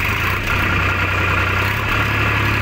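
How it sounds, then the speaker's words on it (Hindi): A Sonalika tractor engine runs in gear, idling with a steady, loud, low rumble and even vibration throughout, with no voices. "यहाँ पर ट्रैक्टर इंजन चालू है।"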